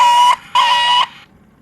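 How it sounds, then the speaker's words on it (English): A 1994 Playmates classic Star Trek communicator toy gives two short electronic beeps, loud and close, the second slightly longer, with a faint tail after. "let's show you guys what the beep sounds like"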